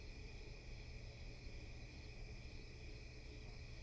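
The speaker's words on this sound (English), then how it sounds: "They'll have crickets." Steady, continuous cricket chirring forms a faint, even background hum throughout, with no voices.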